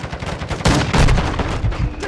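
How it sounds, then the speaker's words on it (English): Dense bursts of automatic gunfire and shots rattle loudly and continuously in a Call of Duty: Modern Warfare II multiplayer match, with heavier booming volleys and no talking over them. "Taking effective fire."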